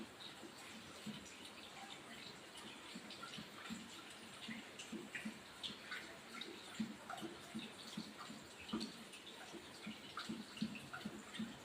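A faint, steady stream of running tap water with small irregular splashes, heard from a little distance against a quiet background.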